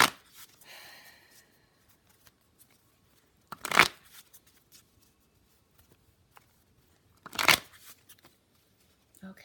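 A Rider-Waite tarot deck riffled in two quick bursts a few seconds apart, each a short, crisp flutter of cards, with faint handling noise in the quiet between.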